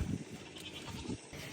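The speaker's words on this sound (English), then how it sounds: "We love our goats." Farm goats bleat twice, once at the start and again about a second later, fairly close against a low background of outdoor noise.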